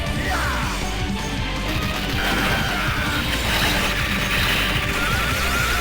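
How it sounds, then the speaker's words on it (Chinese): A grenade goes off in the arcade game Metal Slug 5 amid dense, continuous crashing and gunfire, giving a loud, relentless wall of explosive action. "扔手雷！"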